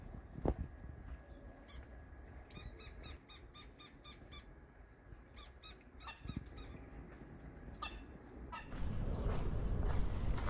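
Birds in a bird sanctuary within San José del Cabo, Mexico, give repeated squeaky honking and chattering calls in irregular bursts over a steady outdoor background.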